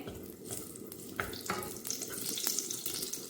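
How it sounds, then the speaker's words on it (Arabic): Sheep testicles fry in ghee, a soft, steady close-up sizzle with faint crackles and no talking. "وهلا هون خلونا نبلش بقلي البيضات الغنم"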